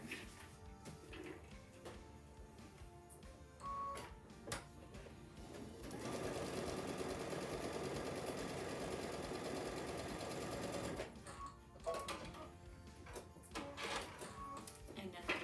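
A sewing machine stitches along a marked line on a quilt panel for a lattice flower block, a steady fast motor whir running about five seconds amid lighter handling clicks and paper rustle, with a voice speaking around it.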